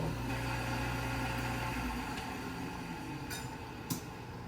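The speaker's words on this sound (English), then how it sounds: "The Kitchenaid has now just started its rinse cycle." Vintage 1977 Hobart KitchenAid Superba portable dishwasher starting its rinse cycle, a steady low mechanical hum and rushing water with a faint click near the end.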